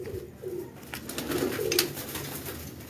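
Domestic pigeons cooing in repeated low, soft calls, fairly close, over a steady background hum with a few faint higher chirps.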